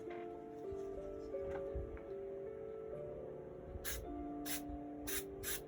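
Several short hissing bursts from a spray can, close and crisp, over quiet background music.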